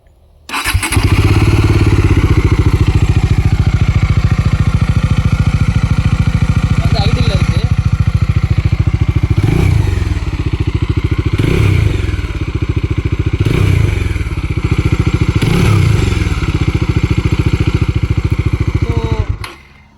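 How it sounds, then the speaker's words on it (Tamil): A Bajaj Dominar 400 motorcycle idles with a deep, steady exhaust thump that carries loud and close throughout, with a few clanks and scrapes rising over it now and then. "அந்த விதத்தில் டாமினாரோட எக்ஸாஸ்ட் வந்து ரொம்ப சூப்பராக இருக்கும், அந்த பீட்டே ரொம்ப நல்லாயிருக்கும்"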